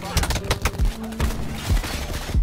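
Rapid bursts of Black Ops 4 gunfire crack in quick succession, several sharp shots spaced irregularly amid a busy background.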